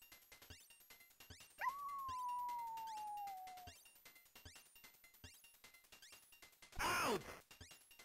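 A domestic dog sound effect from the video game Puyo Puyo CD: a single sustained, falling howl-like tone lasting about two seconds, then a short loud burst, all over a steady ticking game background with no talking.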